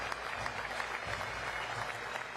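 Audience applauding at an FDNY commissioner swearing-in ceremony in New York City, a steady wash of clapping from a crowd that holds even for the whole short stretch.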